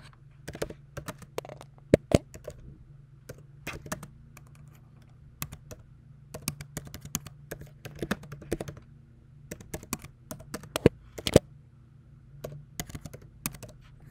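Quiet clicks and taps of someone typing on a computer keyboard, coming in irregular bursts with short pauses between them, close to the microphone and with no talking.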